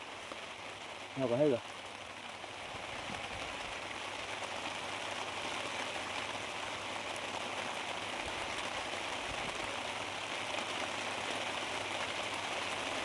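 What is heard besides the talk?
continuous rain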